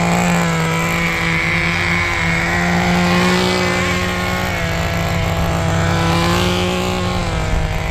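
An original HPI Nitro RS4 RC car's small nitro engine runs steadily at idle on a normal carb setting, a loud, continuous buzzing drone with a strong steady hum, close by and alone for the whole stretch.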